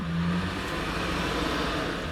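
A 1975 Mercedes-Benz 350 SL engine revs briefly and steadily up close, a continuous mechanical drone with no voices over it.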